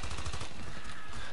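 M249 SAW machine gun in the game Battlefield Play4Free, firing a rapid burst of about half a dozen close, punchy shots in quick rhythm, followed by a short lingering tail.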